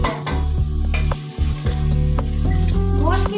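Mutton pieces frying in masala and added oil for kaddu gosht curry, loud close sizzle with repeated spoon scrapes and clinks against the pot.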